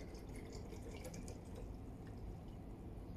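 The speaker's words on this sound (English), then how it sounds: "Then we fill the mineral water to the UV control box." Mineral water pours into the control box of a Focus Inc. Combo Jet A3 plus UV flatbed printer, giving a steady, close trickling and dripping with no break and no talk.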